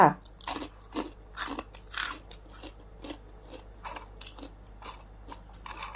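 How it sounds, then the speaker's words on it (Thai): Homemade pork cracklings being bitten up close, a series of loud, brittle crunches in an irregular rhythm over a low steady background hum. "มาชิมกันนะคะ กรอบค่ะ"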